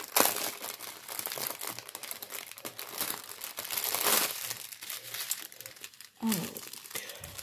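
Close, irregular crinkling and crumpling of packaging with sharp tearing of tape during an unboxing of craft supplies. Louder rips rise above the rustle, with brief quiet speech at moments.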